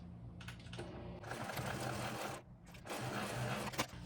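A sewing machine stitches down a backpack pocket lining, running around a box shape in steady mechanical bursts with a short pause midway, close and moderately loud.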